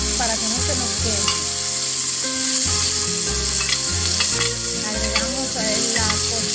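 Small pork rib pieces fry in a pan while being stirred constantly, with a loud continuous sizzle and scraping close up over steady background music.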